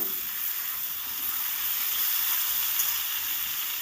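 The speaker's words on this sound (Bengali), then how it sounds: "ওই তেলের মধ্যেই আমি এবার দিয়ে দিচ্ছি গাজরগুলো লম্বা লম্বা করে কাটা গাজরগুলোকে দিয়ে দিলাম একটু নেড়ে চেড়ে দেবো" Long-sliced carrots sizzle steadily in hot oil in a pan for a mixed vegetable dish, a dense, even frying hiss that stays close and loud throughout with no voices.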